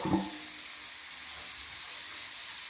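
Carrot and green chillies fry in a pan for pasta, giving off a steady, close hiss of sizzling oil after a brief clatter at the start.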